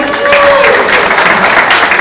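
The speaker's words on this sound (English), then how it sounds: "Let's give her a round of applause" An audience at a fashion show event gives a burst of applause, loud and close, dense clapping filling the moment with a faint tonal hum at the start.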